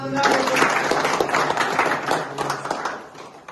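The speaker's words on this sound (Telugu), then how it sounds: "అందరూ చప్పట్లు కూడా." A crowd at a local committee election meeting in Gudur breaks into loud, dense clapping that holds steady for a few seconds, with a voice faintly audible underneath.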